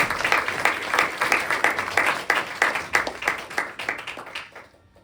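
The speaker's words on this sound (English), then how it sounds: "a big round of applause for this score" An audience claps for a group of musicians, individual claps clearly spaced at first and gradually thinning and fading out near the end, with no talking over it.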